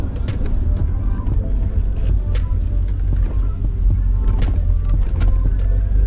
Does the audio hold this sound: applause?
no